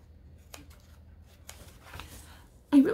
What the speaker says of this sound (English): I'm just cutting a little slant in there just so I can get my scissors in and get it started.